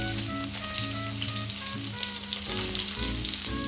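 Paneer shallow frying in oil on a medium flame, a loud, steady crackling sizzle that continues unbroken throughout, with a faint low hum underneath.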